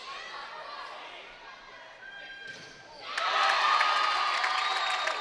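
A crowd at a high school volleyball match between Spring Ford and Perk Valley cheers and shouts in a gym, starting as a murmur of chatter and then surging into loud, sustained cheering after a sharp hit, with voices mixed in.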